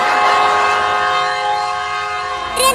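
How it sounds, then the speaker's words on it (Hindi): A cartoon train whistle blows as a loud, sustained, harmonic tone for almost three seconds, then cuts off into a short squeaky burst. "ट्रेन ने सीटी बजा दिया"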